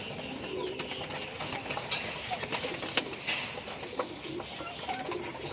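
A local pigeon cooing softly at close range amid a rustling, noisy background with a few short sharp clicks.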